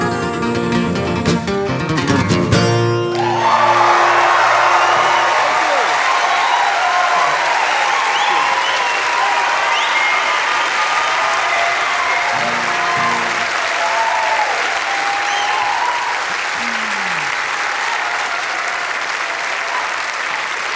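Large concert hall audience at a live folk show applauding and cheering for the opening act, a dense sustained roar of clapping that swells loudly after a brief musical ending and continues steadily, with occasional whoops.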